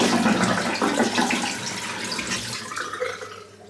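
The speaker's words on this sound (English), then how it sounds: "let's just rinse this off" Running water rinses shaving lather off a freshly shaved head, a close, steady splashing and gurgling stream that tapers off toward the end, with no talking.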